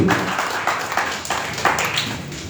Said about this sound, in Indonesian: kita berikan tepuk tangan bagi Tuhan